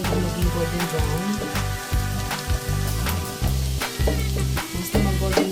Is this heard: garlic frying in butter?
yes